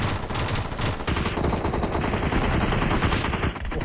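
Dense automatic gunfire in PUBG Mobile rattles almost without pause: loud, rapid bursts of machine-gun shots that fill the whole stretch.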